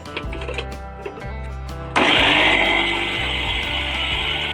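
A kitchen mixer grinder starts up and whirs loudly and steadily, grinding coconut with cumin and a little water, after a few seconds of softer kitchen clatter.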